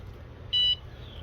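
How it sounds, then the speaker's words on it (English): Kayak alarm system sounds one clear electronic beep, a short steady tone that stops abruptly, then a fainter trailing chirp over quiet background hum. "So these are my warning sounds."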